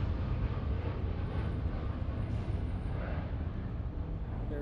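United airliner bound for Heathrow at Los Angeles International Airport, a broad steady jet roar heard from a distance, constant and rumbling throughout.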